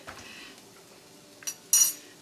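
A metal teaspoon clinks against a pot while spices go into softened onions for Cape Malay pickled fish, with a few soft scrapes and then two sharper, louder clinks near the end.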